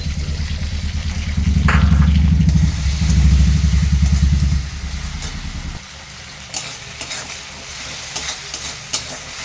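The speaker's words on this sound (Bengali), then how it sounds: "দেখুন সর্ষেটা আমার একটু ভাজা ভাজা হয়ে গেছে" Black and white mustard seeds with green chilli fry in a pan, making a loud crackling sizzle with rhythmic scraping stirs for several seconds, then settling into quieter sizzling with occasional pops and clinks; no speech is heard.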